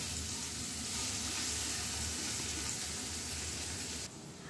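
Potatoes frying in oil over low heat make a steady, even hiss and bubbling close by that drops off abruptly near the end, with no speech.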